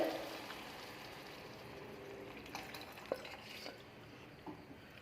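Chilli chicken gravy, cooked with chicken and soy sauce, being added to a hot pan and stirred, giving a steady close sizzle with a few soft scraping stirs and no talking.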